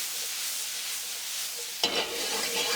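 Onions frying in a 12-inch skillet give a steady, close hiss of sizzling, and a sharper scrape or burst of crackle comes in near the end.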